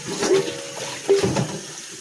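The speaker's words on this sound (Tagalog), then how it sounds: "You have to wash this really good, okay? Maybe 7 times washing." Salted radish being washed and scrubbed in water, with two short splashy bursts of sloshing water, close and moderately quiet.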